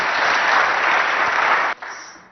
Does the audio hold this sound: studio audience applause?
yes